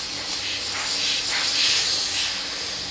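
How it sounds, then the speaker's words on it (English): Steady airbrush hiss spraying paint while detailing a Senna F1 model car, a broad airy rush that swells and eases in gentle pulses, close and continuous with no voices. "The airbrush isn't working super good today."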